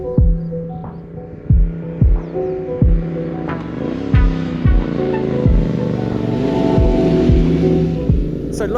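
A Royal Enfield Interceptor 650 motorcycle is ridden along open roads on a Saturday morning, its engine holding a steady droning note with pitch shifts and a series of deep, regularly spaced low thumps.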